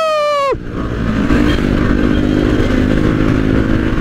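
A rising high-pitched whine cuts off abruptly, then a Kawasaki Z900 motorcycle's engine rumbles steadily and loudly up close while riding through hot city traffic, with constant road and wind noise.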